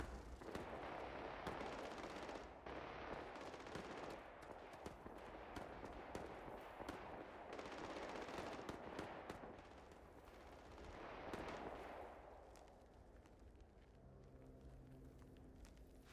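Bursts of gunfire in the space game Starfield crackle and rattle for several seconds in a dense, continuous barrage, then thin out to quieter game sounds and a faint tonal hum near the end.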